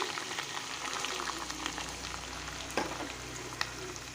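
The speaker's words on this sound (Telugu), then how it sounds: "ఉల్లిగడ్డలు వేస్తున్నా" Onions sizzling in a pan of hot oil for chole, a steady, fairly faint crackle with a few sharper pops and no voices.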